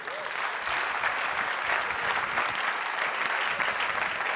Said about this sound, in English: can I have a big round of applause for the Research and Planning Director of Thinkbox, Mr. Matt Hill.